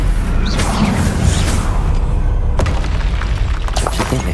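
A Confringo blasting curse explodes in the video game Hogwarts Legacy, a loud booming blast with a sharp crack partway through and a rumbling roar that stays dense throughout.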